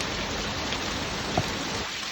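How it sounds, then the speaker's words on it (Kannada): Heavy monsoon rain pours steadily in Coorg, a dense, loud, continuous hiss of drops with no pauses. "ಯಾವ ಪ್ರಮಾಣದಲ್ಲಿ ಮಳೆ ಬರ್ತಿದೆ ಅಂತ ನೀವು ನೋಡ್ಬೋದು"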